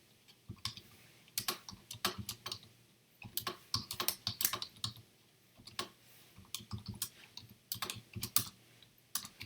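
Java code being typed on a computer keyboard comes through as fast, close clusters of crisp key clicks in bursts, with short pauses between runs and no talking.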